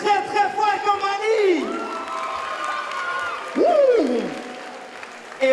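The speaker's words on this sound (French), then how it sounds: "On les applaudit très, très fort, Mani." Audience at a street dance show final applauds and cheers a dance group, a steady roar of clapping and shouts across the whole stretch, with whoops rising near the end.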